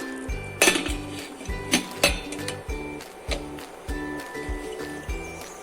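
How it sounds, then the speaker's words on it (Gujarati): Kitchen clatter while a pressure cooker of kanda poha is covered with its lid: a series of metallic clinks and knocks at irregular intervals over a faint low steady hum, close by, with no talking. "હવે આપણે તેને ઢાંકી દઈશું."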